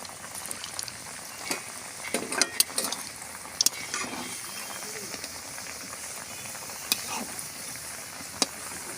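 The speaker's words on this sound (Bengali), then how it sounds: "এবার আমি এইগুলো ভেজে নেব সামনের জিলাপিগুলো" Constant crackling sizzle of chhena jalebi frying in hot oil, with scattered sharp pops and occasional utensil clicks; no speech.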